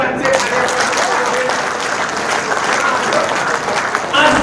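Loud, continuous applause from a crowd at a Hindi poetry gathering (kavi sammelan) in Unnao, a dense steady wash of clapping that carries through the whole stretch with faint voices beneath and a brief swell near the end.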